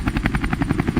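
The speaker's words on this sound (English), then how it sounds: "8 helicopters left the Nimitz." Military helicopter in flight, its rotor chopping in fast, even rhythmic thumps with a low engine drone, loud and close throughout the short burst.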